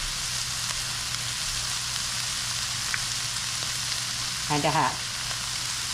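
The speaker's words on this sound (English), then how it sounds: "let me get this cooking through. Let the spices heat and the flour get on raw" Spices and flour frying in a pan, a steady close sizzle running throughout, with a brief spoken phrase and a short rattling clatter near the end.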